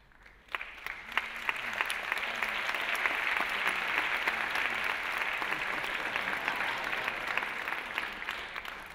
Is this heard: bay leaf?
no